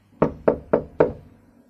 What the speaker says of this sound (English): There was no reply, so I knocked again.